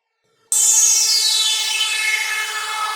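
A flanged synth layer for a neurofunk drop bursts in suddenly and holds loud and bright, its sweeping flanger filter gliding steadily downward over a sustained buzzy tone, with no voice present.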